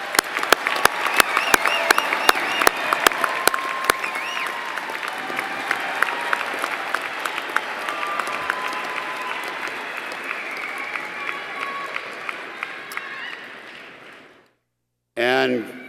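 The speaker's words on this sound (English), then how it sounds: "Let's give all our graduates one more round of applause." A large commencement ceremony audience applauds the graduates in long, dense applause with sharp individual claps near the front, tapering off before a brief burst of sound at the end.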